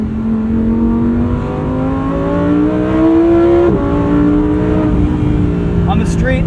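A 2023 Lamborghini Huracan Tecnica's mid-engine revs steadily while driving, its loud, rising engine drone climbing in pitch over several seconds with a brief dip midway, continuous and close throughout.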